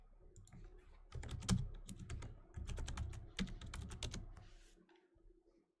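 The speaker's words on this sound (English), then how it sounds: "See if I can type into the thing." Fingers clatter across a computer keyboard during a night of online gaming, with quick irregular bursts of keystrokes growing busier in the middle, then thinning out and fading.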